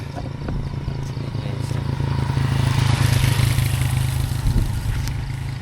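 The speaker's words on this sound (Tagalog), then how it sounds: "Ayan may motor." Motorcycle passing nearby on a steep road, its engine a steady buzzing drone that swells and fades over several seconds, with light clatter mixed in.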